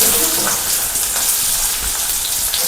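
Chopped onion fries in hot oil in a pan, a steady loud close sizzle with crackling and occasional stirring scrapes, no talk.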